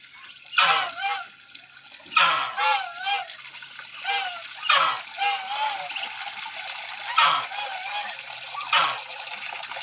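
Muscovy ducks or geese honking in a series of loud, close, wavering calls that recur every couple of seconds, with faint splashing water beneath.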